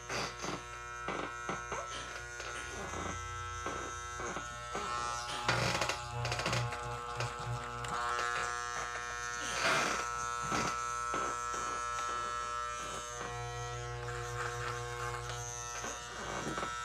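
Electric clippers buzz steadily while trimming the fake fur of a Devil Monkey monster costume, a continuous quiet motor hum with small changes in pitch and load as the blades move through the fabric.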